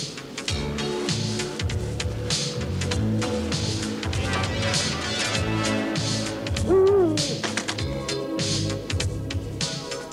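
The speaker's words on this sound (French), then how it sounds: "Ah, c'est le hibou royal qui vient nous accueillir." A royal owl in a French cartoon hoots over a dense, loud musical score, one bending call rising out of the busy background.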